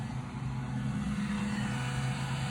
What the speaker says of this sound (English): Weird people driving through the alley.